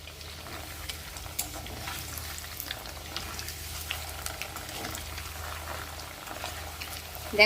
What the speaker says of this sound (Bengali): গ্যাসের আঁচটা মিডিয়ামে রেখে এটা লাল লাল করে ভেজে নেব